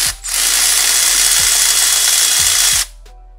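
A power tool, likely an impact gun or drill, spins steadily for about two and a half seconds while removing a bolt from the engine of a 2000 car during oil pump and timing belt work, loud and close, with faint clicks underneath.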